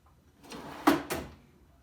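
A drop-in wooden drawer is set down onto side-mount drawer slides, giving a soft slide followed by two sharp, close knocks about a quarter second apart, with no talking.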